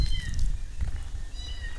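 A cat meows a couple of times, with thin, faint calls at the start and again near the end over a steady low rumble, and no talking.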